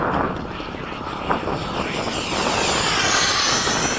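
Airplane engine roaring on a low pass over a windy airfield, a loud sustained broadband rush that swells slightly toward the end, with faint voices underneath.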